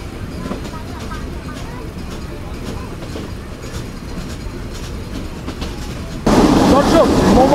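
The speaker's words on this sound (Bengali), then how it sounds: "মোবারকগঞ্জ থেকে যশোর পর্যন্ত ট্রেন সর্বোচ্চ গতিতে চলে" Sundarban Express train from Dhaka to Khulna running at top speed, a steady low rumbling roll with faint rhythmic clacks, growing suddenly louder and harsher near the end.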